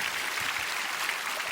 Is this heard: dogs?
no